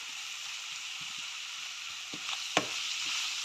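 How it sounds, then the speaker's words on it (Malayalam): Pepper chicken curry being stirred in a pan, a soft steady sizzle with occasional faint scrapes of the spoon, quiet and close with no talking. "നന്നായിട്ട് ഒന്ന് ഇളക്കി കൊടുക്കുക"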